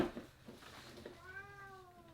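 A cat named Mickey meows for attention, one drawn-out meow rising and then falling in pitch near the end, faint and somewhat close over a quiet room.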